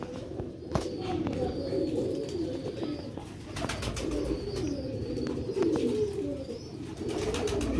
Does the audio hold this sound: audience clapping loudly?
no